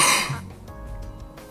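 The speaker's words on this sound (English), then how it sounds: "Sorry, just a cough there." A single sharp cough bursts out up close, followed by a quieter low rumble of room noise.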